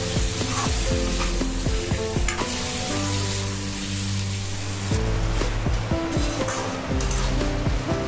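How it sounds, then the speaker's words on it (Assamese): Mutton sizzles in hot oil with onion and ginger-garlic paste for an Assamese-style curry, a loud continuous fry close by with repeated clinks of a spoon against the pan, nobody speaking. "এইখিনি ভালদৰে ভাজি ল'লোঁ। এতিয়া মাংসখিনি এড কৰিম।"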